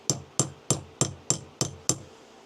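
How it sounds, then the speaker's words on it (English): A hammer strikes a simple die setter seven times in a steady rhythm, each blow a sharp, close metallic knock with a short ring, during a beginner's shoemaking kit build. "we're doing the best we can with just a hammer and the simple die setter"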